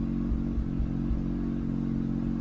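Exhaust of an FD Mazda RX-7 rotary fitted with a hi-flow catalytic converter, a steady loud low idle burble with a faint regular pulse, heard close up and continuous.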